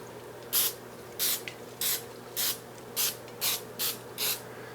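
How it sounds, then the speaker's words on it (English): Cooking oil sprayed over thinly sliced potatoes for microwave chips, heard as eight short, crisp aerosol bursts in a steady rhythm, close and fairly quiet with no talking. "Let's just spray this down."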